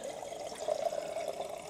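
Water is poured into a small 500 ml Hario Bono kettle outdoors: a brief, quiet, steady trickling splash with no talking.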